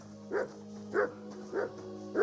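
A dog barking in the medieval game Kingdom Come: Deliverance II, four evenly spaced, moderately loud woofs over a steady background hum, with no talking.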